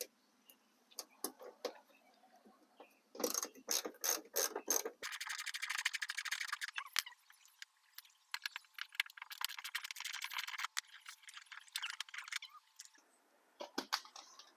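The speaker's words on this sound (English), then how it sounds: "I'm just going to be using a Phillips bit on a ratchet, and I can just get in between here and take these out with it" Ratchet driving a Phillips bit to remove the rocker molding screws on a Honda Odyssey, rapid clicking pawl ratchet in bursts over about fifteen seconds, close and clear, with brief pauses between runs.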